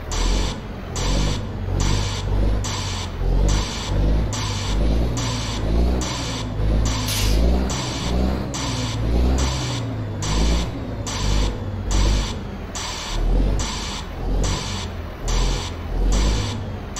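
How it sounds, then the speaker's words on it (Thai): A Detroit diesel truck engine in the game American Truck Simulator runs with a steady low rumble, overlaid by a regular, evenly spaced pulsing rasp that repeats throughout. "เสียงรถโหดใช้ได้เลยนะเป็นเครื่องยนต์ดีทรอย"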